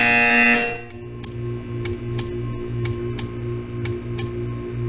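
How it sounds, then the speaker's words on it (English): Repeated short electronic buzzer tones sound at an even, steady rhythm in the Portal 2 VR mod's art-staring test chamber, clear and alone over a low hum after a brief opening tone. "When you hear the buzzer, stare at the art."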